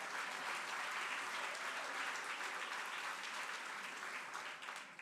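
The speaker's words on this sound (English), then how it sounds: "Y'all can clap for that." Steady applause from an audience at a mayor's State of the City address, dense and even throughout, heard from a distance at moderate level.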